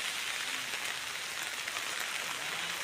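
Heavy monsoon rain pours down by a river in a Konkan village, a dense, even hiss of drops on water and surfaces, steady and unbroken throughout.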